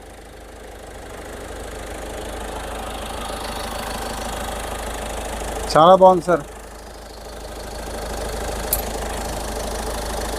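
A 2015 Ford EcoSport Titanium diesel idling, a steady low engine hum throughout, with someone briefly speaking over it midway.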